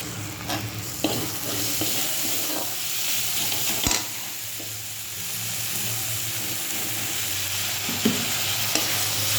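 Half a tomato slowly sautéed into a masala in a pan: a steady close sizzle runs throughout, broken by a few sharp scraping knocks of a stirring spoon, with no talking.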